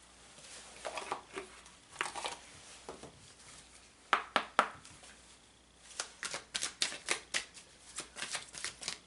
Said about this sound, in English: Let me pull another oracle card for you.